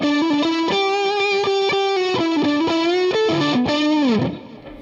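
A distorted electric guitar, a Fender Stratocaster on the neck pickup, plays a lead line of sustained, bending notes with a gritty, saturated tone, then fades out at the end.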